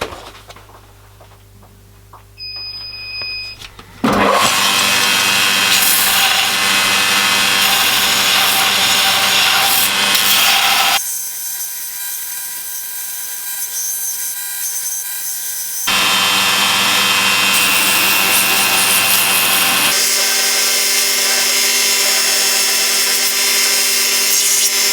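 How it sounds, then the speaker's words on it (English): A Bailey belt grinder profiles a knife blade, spinning up into a loud, continuous abrasive roar that shifts in pitch and texture as the steel is pressed on and lifted off, close and alone with no talking. "This is my Bailey grinder."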